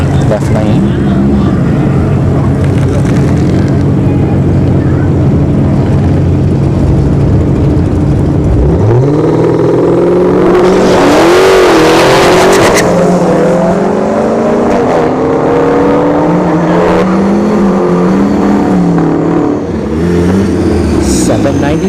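A Dodge Hellcat Challenger launches down a dragstrip at a test-and-tune session, its engine roaring up through rising revs, loud and close over crowd noise, with a voice talking throughout.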